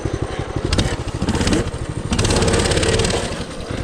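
A 2020 mini bike's small engine revs hard and loud near the listener, its rapid buzzing pulses rising and falling through repeated throttle bursts with no talk.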